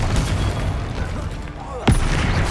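Confringo blasting spell in Hogwarts Legacy, cast during a spell-heavy duel: loud booming bursts, with one sharp, strong blast near the end over busy game noise, while a voice speaks briefly at the start.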